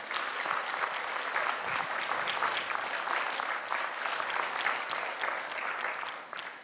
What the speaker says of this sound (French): j'aimerais qu'on leur donne une bonne main d'applaudissements